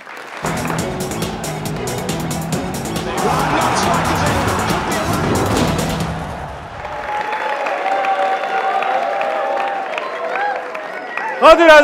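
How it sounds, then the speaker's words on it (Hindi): Applause and cheering from a live studio audience at a cricket comedy talk show, a dense burst of clapping that fades into a break jingle with music. "तालियां बजाइए"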